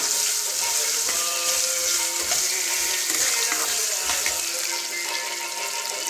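Potato pieces sauté in a pan for spicy potato rice, giving a steady, even hiss of oil sizzling throughout, with no one talking.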